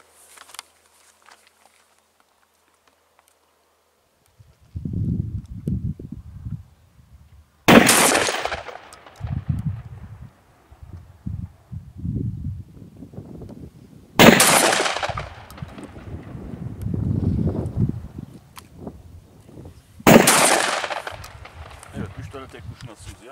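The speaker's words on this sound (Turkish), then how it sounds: "Tek kurşun atışımızı yaptık." A DCX-35 Ultra rifle with a spare barrel is test fired from a standing, unsupported position, giving three loud sharp shots several seconds apart, each echoing away, with people talking in between.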